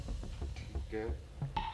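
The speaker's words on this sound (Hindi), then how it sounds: "1 मिनट, कॉल आ रही है।" A phone ringing with an incoming call indoors, a short electronic ringtone of repeated tones under a voice talking, fairly close but moderate in level.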